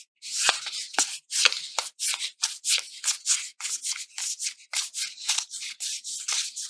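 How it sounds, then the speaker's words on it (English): A tarot card deck, the Light Seer deck, is shuffled by hand. It gives a steady run of close, loud brushing and riffling bursts, about two per second, with no voices. "Let's see what they sound like when they're brushing."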